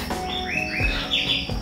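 A white-rumped shama songbird sings nearby in a loud, clear run of rising whistled notes and chirps, with no voices.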